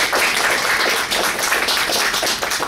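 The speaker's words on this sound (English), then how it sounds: "Let's give her a round of applause." An audience claps in a round of applause, a dense, steady patter of many hands that holds evenly throughout with no voices over it.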